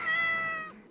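A person imitates a cat, stretching out one long, drawn-out meow that fades, followed by a brief soft vocal sound at the end.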